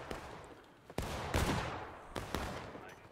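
Gunfire at a battle reenactment, with several sharp reports and a rolling volley that trails into echoing rumble, loud and fairly close, over an open outdoor background.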